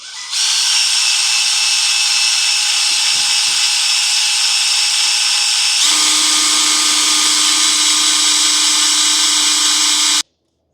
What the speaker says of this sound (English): Let me try to show you while I do the drill right here.